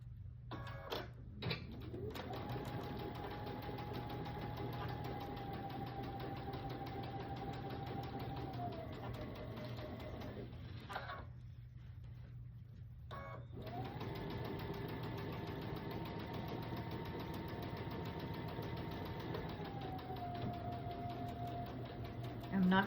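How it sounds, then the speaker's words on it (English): A sewing machine stitches fabric for a door hanger in two long sustained runs, a steady motorized hum with a rising and falling pitch and a brief pause between, close and fairly quiet. "and then I'll sew right here"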